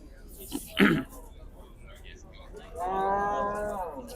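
A cow that recently bore twin calves gives one long, clear moo near the end, after a brief sharp noise and some quiet background sounds.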